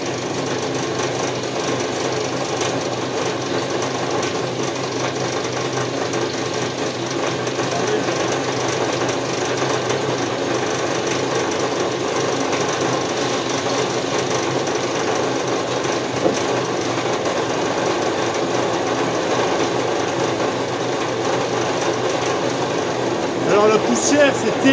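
An automated pellet press machine runs continuously nearby, a dense steady mechanical drone and clatter that stays constant throughout, with some talking mixed in.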